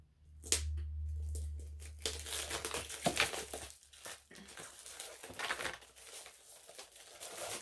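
Plastic wrap on a writers' subscription box of notebooks being nipped and torn open, a close run of crinkling and ripping bursts, fairly quiet, with no talk.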